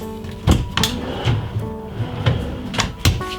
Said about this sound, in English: we've got push to open drawers